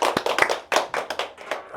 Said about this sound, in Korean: 우리 힘차게 박수 한번 치고 시작하겠습니다